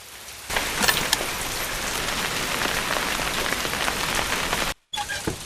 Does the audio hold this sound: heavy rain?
yes